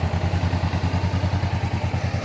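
Honda CBR500R motorcycle engine idling or running steadily with a pulsing, throbbing low rumble, close and loud, alone without talk.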